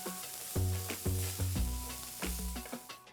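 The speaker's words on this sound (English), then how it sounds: "Saute the onions till they're a nice golden color." Finely chopped onion sautéing in hot mustard oil, a continuous bright sizzle with several loud clunks and scrapes of a spoon stirring against the pan, close and without talk.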